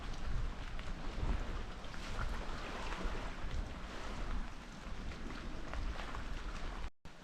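Wind roars across an open outdoor spot on a freezing, rainy day, a steady broadband gusting and buffeting the microphone throughout, loud and continuous with a brief dropout near the end.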